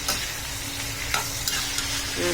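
Onion and tomato pieces sautéing in a pan for mint chutney, giving a steady close sizzle with a few light scrapes of a spatula stirring, and no voices.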